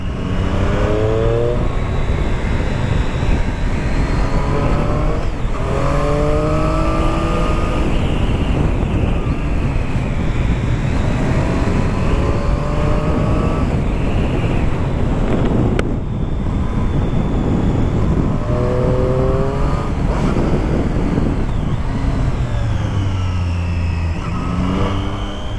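A Triumph Street Triple S 660 A2 motorcycle engine drones steadily while riding, rising and falling through repeated revving gear changes under heavy wind rush, loud and close throughout.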